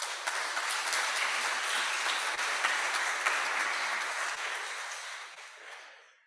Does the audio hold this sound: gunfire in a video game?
no